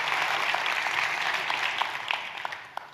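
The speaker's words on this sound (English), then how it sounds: "Give her a round of applause for outstanding excellence." Crowd at an education excellence celebration applauding an award-winning teacher, a dense wash of clapping with scattered distinct claps that gradually tapers toward the end.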